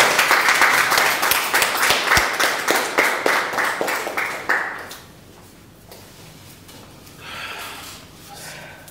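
Strong applause from an audience at a tenth-anniversary memorial ceremony, massed clapping falling into a rhythmic pulse before dying away around halfway, followed by quiet room tone and a brief murmur.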